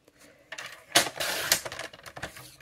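A paper trimmer slices through white cardstock up close, a rasping blade run with a couple of louder strokes and clicks of the guide, no talk.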